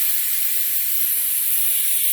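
Vacuum coolant filler on a car engine cooling system hissing steadily as the air pipe is opened, a loud, continuous, high airy rush that stays even throughout with no voices.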